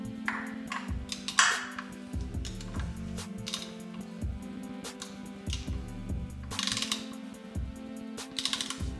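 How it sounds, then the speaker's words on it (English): A torque wrench tightens an Evotech front frame slider bolt on a Ducati Streetfighter V to 40 Nm, producing bursts of close ratcheting clicks and sharp metallic pings separated by brief pauses. "we're going to tighten this to"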